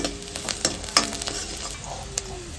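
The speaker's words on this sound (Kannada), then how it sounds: "ಮಾಡಿರೋ ಮೆಣಸಿನ್ಕಾಯಿ ಹಾಕ್ಕೊಳ್ಳಿ, ಅದನ್ನು ಚೆನ್ನಾಗಿ ಫ್ರೈ ಮಾಡ್ಕೊಳ್ಳಿ." Green chillies frying in oil for chhole masala, a steady close sizzle with scattered sharp clicks and scrapes of stirring in the pan, no voices.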